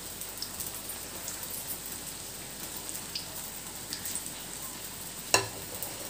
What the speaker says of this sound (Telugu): మీడియం ఫ్లేమ్లో పెట్టి బాగా ఫ్రై చేసేసుకోవాలి